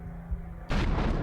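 Cannon fire sound effect from the Corsair Leader board game: a low hum gives way to a sudden loud, rumbling blast about halfway through, which carries on to the end.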